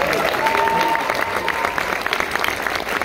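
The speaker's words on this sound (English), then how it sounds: "Let's give a final round of applause." Audience at a Sundance world premiere screening of the film Fremont breaking into a final round of applause, a full room of clapping with some cheering and scattered voices.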